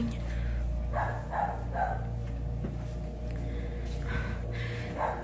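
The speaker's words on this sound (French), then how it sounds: "Se escucha el perro." A dog barks several times at a distance late at night, short muffled bursts in two clusters over a low steady hum.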